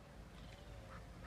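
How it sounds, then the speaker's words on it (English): A bird quacks faintly in Costa Rica, low and hoarse against steady outdoor background noise across a short moment. "Pretty bird."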